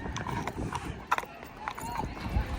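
Horses clip-clop along a stony road near the Egyptian pyramids, their hoofbeats uneven and close, mixed with background chatter and street noise.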